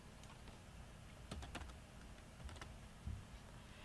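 Quiet typing on a computer keyboard, scattered key clicks in a loose irregular rhythm over a hissy background, faint and close with no talk.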